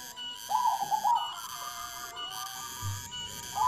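A perkutut, or zebra dove, gives soft cooing calls, the main phrases at moderate level near the start and again at the end, over a steady higher-pitched tonal background.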